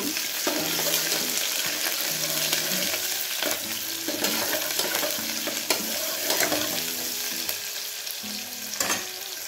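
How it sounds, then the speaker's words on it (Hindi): Onions hitting hot oil in a pan, a lively sizzle punctuated by repeated scrapes and clatters of stirring, close and moderately loud, with no talk. "अब हम इसमें डालेंगे प्याज। प्याज को 2 मिनट के लिए अच्छे से भून लेंगे हम लोग।"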